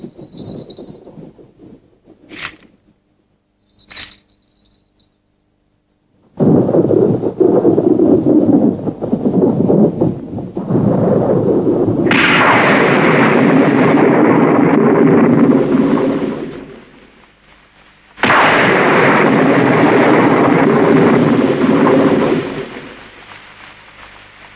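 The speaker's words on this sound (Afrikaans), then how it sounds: "Dit lyk vir my na 'n wolkbreek. Ek dink is net 'n donder by, dit sal gou ophou." A heavy thunderstorm roars in with a loud downpour and rumbling thunder, a dense, sustained wash that swells, briefly drops away, then surges back after a few faint knocks.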